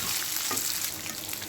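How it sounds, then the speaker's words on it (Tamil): Small onions and peanuts sauté in a hot pan for drumstick rice, giving a steady, close crackling sizzle with faint stirring scrapes and no talking. "நல்லா வதக்கிடுங்க"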